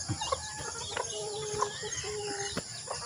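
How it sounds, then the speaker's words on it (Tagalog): Chickens cluck and a rooster crows amid steady farmyard chatter, several birds calling at once at a moderate distance. "Ayan ang mga manok."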